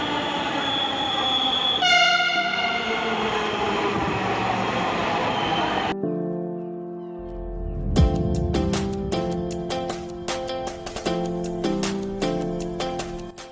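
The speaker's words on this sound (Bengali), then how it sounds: "ফাইনালি বেশ কিছু সময় অপেক্ষা করার পরে মেট্রো চলে আসলো।" Dhaka metro rail train pulling into a station, a steady loud rumble with a rising horn-like tone, then after a brief hush a ringing, pulsing run of electric whine and rhythmic clicks as it slows alongside the platform.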